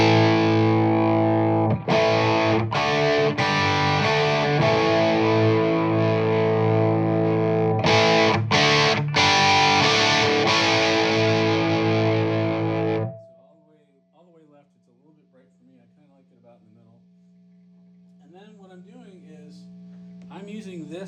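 A heavily distorted electric guitar through a Colby Mod Machine 100W tube amplifier plays loud, thick chords with a few sharp breaks, then cuts off into a quiet tail with faint notes.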